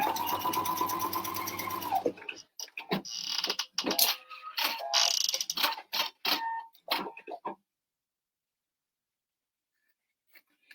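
A home sewing machine stitches a 5/8 seam while turning a corner on a quilt, running steadily at first, then breaking into short stop-start bursts with mechanical clicks before falling silent.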